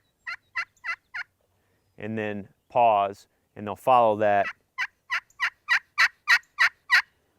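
A caller imitates a turkey hen's yelping: a few soft, evenly spaced yelps, a short stretch of someone talking, then a longer run of sharp yelps that grows steadily louder, like an increasingly excited hen.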